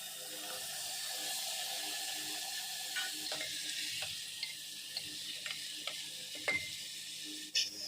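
Bottle gourd sabzi cooking with spices and kasuri methi in a pan, a steady soft sizzle with occasional stirring scrapes and small clinks, close and moderately quiet, with no talking.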